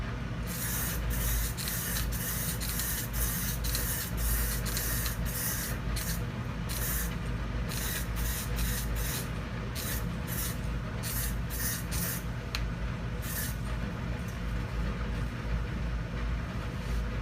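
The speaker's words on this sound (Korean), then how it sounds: "충분히 흔들어 주신 다음에 뿌리면 됩니다" Elka custom base black paint sprayed from a well-shaken aerosol can held about 8 to 11 cm from the surface, a close steady hissing broken into many short bursts and longer passes over a low background hum.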